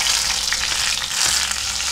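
A bay leaf drops into hot oil while a home-made chicken curry gravy is being started, giving a steady, close, bright sizzle and crackle that stays even throughout with no voices.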